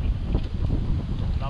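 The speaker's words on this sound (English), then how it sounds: "Love the wind." Steady wind buffets the microphone beside a lake or creek while fishing, a constant low rumble with faint voices underneath.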